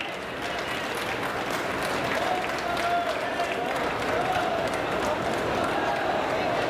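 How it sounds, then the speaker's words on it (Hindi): Crowd applause at a large outdoor public event in Varanasi during a Prime Minister's visit, a broad sustained rush of distant clapping with faint voices and a tone drifting underneath. "तालियां बजती रहनी चाहिए।"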